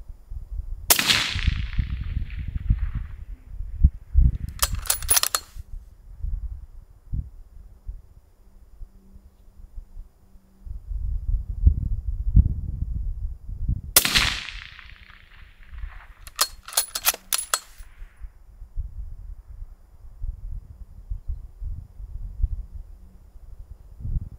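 Rifle shots crack at long-range target shooting in Texas with steel targets at 1,000 yards, a few sharp distant reports separated by quiet gaps and low background rumble.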